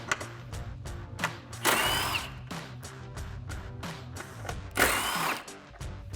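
A power tool whirs in two short bursts while removing 10mm headlight bolts on a 2015-2017 Ford F-150, between close ratcheting clicks and handling knocks.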